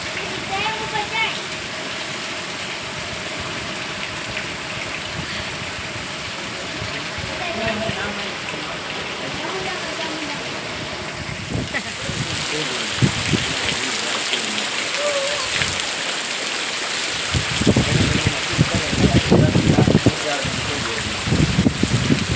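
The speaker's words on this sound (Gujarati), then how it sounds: "આટલો વરસાદ પડે છે અમારે" Steady rain hisses throughout, growing louder toward the end with heavier splashing, while a voice talks intermittently over it.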